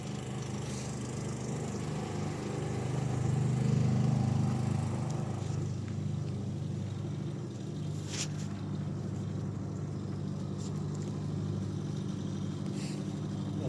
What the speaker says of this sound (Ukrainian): Генератори працюють, чую.